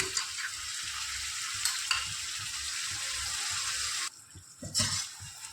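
Spices, ginger-garlic paste and pepper being stirred into a sizzling frying pan for a white creamy pepper chicken gravy: a steady close hiss with scraping stirs, a brief lull near the end, then renewed sizzle.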